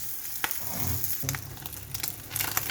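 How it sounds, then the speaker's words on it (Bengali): An egg fries in a pan until reddish-golden, giving a steady crackling sizzle with a few sharp pops and some low clatter of the pan, close by and without voices. "এই ডিমটা ভেজে ওখানে নাস্তা খেতে দিব। ডিমটা এরকম লাল লাল করে ভাজতে হবে।"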